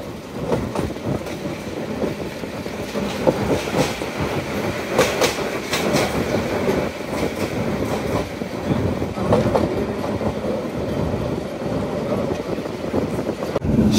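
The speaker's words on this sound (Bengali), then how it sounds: "আর আমাদের ট্রেনটি এখন ঘোড়াশাল অতিক্রম করছে" The 737 Up Egarosindur Provati Express passenger train runs past Ghorashal in Bangladesh, heard from on board as a steady, loud rumble with rolling wheel clatter and occasional brighter rattles throughout.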